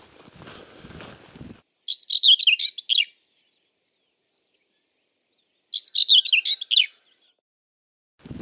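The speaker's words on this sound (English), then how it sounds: "Walking out the door in the morning in those small villages is always amazing because you hear the birds and all the animals doing their thing." Small birds singing on a morning in a Camino de Santiago village, two clear bursts of rapid high chirping trills about four seconds apart, close and bright against near silence.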